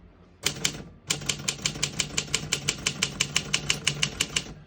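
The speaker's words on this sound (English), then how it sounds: "As you can see, all the keys type nice and none of them skip or stick." Someone types steadily on a 1958 Olympia SM3 portable typewriter, a brief pause followed by a long even run of crisp, close key strikes with no voices.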